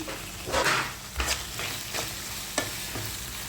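Onions and tomatoes sauté with salt in oil for a chicken chilli curry, a continuous close sizzle broken by a few louder scraping stirs and pan knocks.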